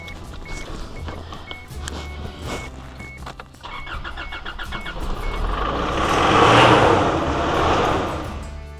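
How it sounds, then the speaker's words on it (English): A vehicle engine, belonging to a man who calls himself a right cowboy, idles steadily and then revs up, swelling to a loud, rough roar before easing slightly, with no talking over it. "Let you hear the engine."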